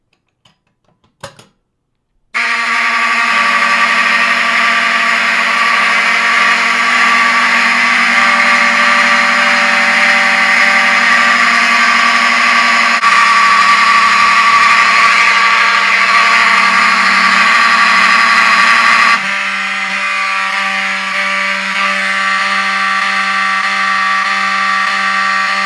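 Wheelock 7002T fire alarm horn strobes blare continuously during a fire alarm system test, a loud harsh steady electronic horn tone that starts abruptly after a brief click and shifts slightly in pitch partway through, with no talking.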